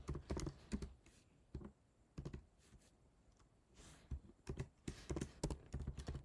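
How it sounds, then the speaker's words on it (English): Keys clatter on a computer keyboard while Python code is typed into a Google Colab code cell, coming in quick close bursts of clicks separated by short pauses, with no voice. "Type this into a code cell and press Shift Enter"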